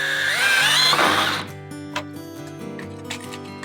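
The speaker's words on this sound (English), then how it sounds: "I got my screw gun here." A screw gun drives a screw into a bracket on a model railroad, its motor whining for about a second and a half before cutting off, followed by quiet clicks and handling noises.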